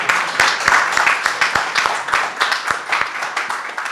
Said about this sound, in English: It's fantastic. A big round of applause again.